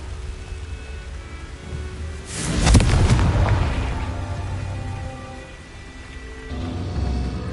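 A fiery Confringo spell blast erupts in Hogwarts Legacy, one loud booming explosion a few seconds in that rolls off slowly over a steady game ambience.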